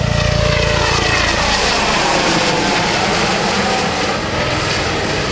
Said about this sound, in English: The HH-65 going back on a high-speed pass.